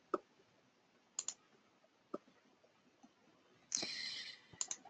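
Sparse mouse clicks in Gmail on a computer, a handful of sharp separate taps with pauses between them, quiet and close, ending with a longer burst of clicking.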